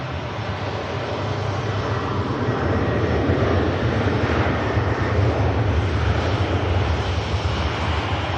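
A Singapore Airlines Airbus A350 jet airliner roars loudly and steadily at Manchester Airport, a broad continuous engine rumble with deep low-end power that swells slightly mid-clip and holds throughout.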